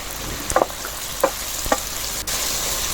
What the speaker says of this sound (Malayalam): അതിൽ സ്വല്പം എണ്ണ വെച്ചിട്ട് അതിലേക്ക് നമ്മൾ ആ ഉള്ളി അതിലിട്ടിട്ട് വാട്ടുക